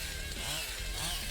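Chainsaw cutting enemies in the End of Ember video game: a steady, loud, buzzing engine drone with rhythmic low revving pulses, heard alone without speech.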